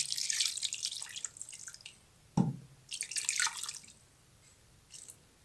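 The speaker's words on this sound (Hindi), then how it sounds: "थोड़ा सा पानी और डालेंगे।" Water poured from a vessel into a pot of unsoaked lentils being cooked for chicken shami kababs, heard as soft splashing and dripping bursts with a brief low glug, fairly close and quiet with no talk.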